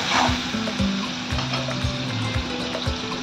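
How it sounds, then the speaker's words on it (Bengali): Onion frying in oil in a wok gives a steady sizzle, with a few low knocks and clinks of utensils against the pan along the way. "এই কড়াতেই আমি তেল দিয়ে দিলাম। এবার দেবো অল্প করে পেঁয়াজ, খুব অল্প করে।"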